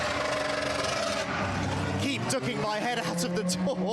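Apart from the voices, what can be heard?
Lamborghini GT race car heading out into the pit lane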